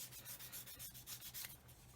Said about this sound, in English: This is quite a coarse sanding stick I'm using here